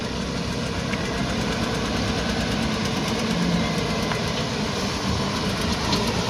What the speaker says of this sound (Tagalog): Ang hawak naman niya is Photon Auman, powered by Weichai engine.